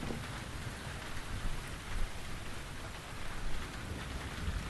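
Steady heavy rain with low thunder rumbling in The Invisible Hours, a continuous dense hiss outdoors with no voices.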